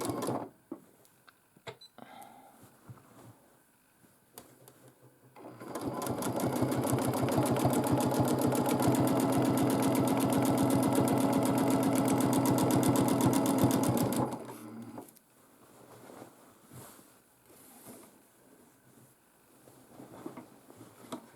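A domestic sewing machine quilting a large quilt runs in one continuous fast burst of rapid needle stitching for about nine seconds, framed by quieter rustling and handling of fabric before and after.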